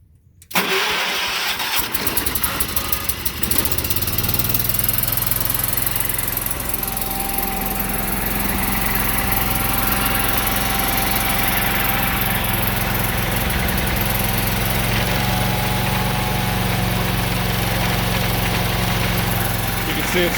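A John Deere 212 lawn tractor with a faulty key switch, rigged with a push-button starter, cranks briefly, then catches and runs at a steady, loud, close idle for the rest of the time.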